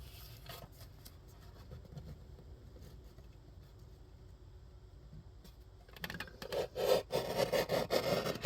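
A blade or saw cuts through the end of a handmade journal, faint rubbing at first, then louder rhythmic rasping strokes near the close.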